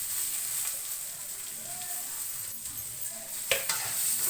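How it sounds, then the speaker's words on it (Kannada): Onions sizzle in a pan with curry leaves, coriander and mint stirred in, a steady close frying hiss with occasional scraping and a brief clatter near the end. "ಸ್ವಲ್ಪ ಫ್ರೈ ಆಗಬೇಕು ಸ್ವಲ್ಪ ನಮಗೆ."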